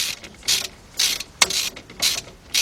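Ratchet tightening hub bearing bolts on a 2005 Nissan Titan 5.6 front wheel, close loud clicking bursts repeating about every half second in a steady rhythm.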